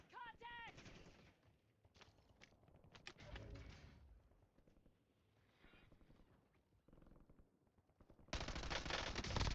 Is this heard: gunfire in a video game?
yes